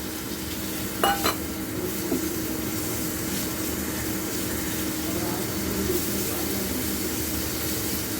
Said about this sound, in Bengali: এবার চিকেনটা দিয়ে ভালো করে ফ্রাই করতে হবে।